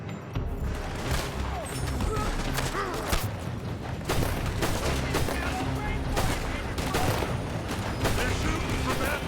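Dense gunfire rattles from a building in Red Dead Redemption 2, a continuous fusillade of rapid shots and cracks that stays loud and busy throughout.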